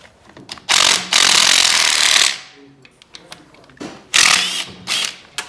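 A tool loosens the oil pump bolts on the cam plate of a Harley-Davidson Twin Cam B engine during a teardown. Two long, loud bursts of ratcheting or grinding sit close up, with scattered metal clicks and taps between them.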